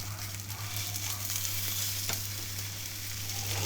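Pork spareribs, browned well on both sides, frying in a pan: a steady, close sizzle with a constant low hum beneath it and a few faint crackles and spits, no talking.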